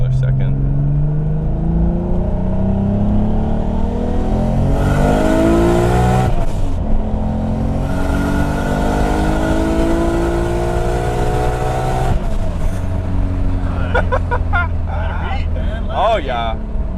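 A turbocharged Nissan R32 GT-R engine, heard from inside the car, pulls hard through the gears with rising revs. Shift pauses break the climb, and faint turbo whistle and flutter follow near the end.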